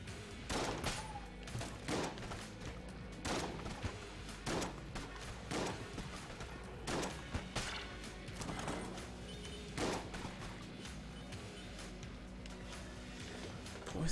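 Poison shots fire in Enter the Gungeon as a rapid volley of sharp, punchy bursts that repeat at irregular intervals through the whole stretch, with crashes and thuds mixed in. No voices.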